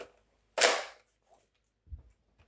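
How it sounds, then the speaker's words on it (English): A Nerf toy gun fires once, a single close, sharp pop with a short airy tail, followed by a few faint clicks and handling noises. "Let's test this out with a Nerf gun"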